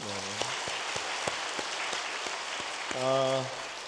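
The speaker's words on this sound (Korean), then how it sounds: "우리 이 친구들한테 박수 한번 주실까요?" Church congregation applauding a group of high-school seniors during a Sunday service, steady clapping throughout, interrupted by a voice speaking briefly near the start and again near the end.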